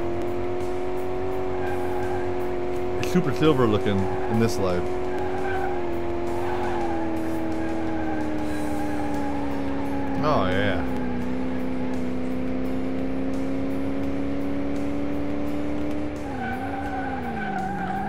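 A 1939 Delahaye car driven in the Car Mechanic Simulator 2018 game, its engine holding a steady drone that shifts pitch, with bursts of tire squeal and someone talking over it.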